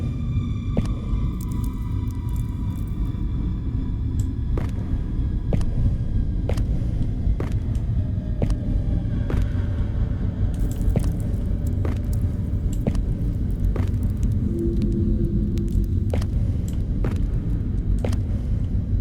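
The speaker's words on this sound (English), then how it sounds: "we can hear the ambience and the reverb get a little bit more dynamic as well" Low droning hum fills a video game hallway with a rumbling, reverberant ambience, punctuated by occasional sharp distant clicks or taps echoing at irregular intervals.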